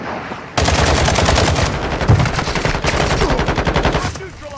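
Sustained automatic gunfire in the Call of Duty Warzone 2.0 DMZ video game, a loud rapid burst of close shots rattling for about four seconds after a brief quiet lead-in.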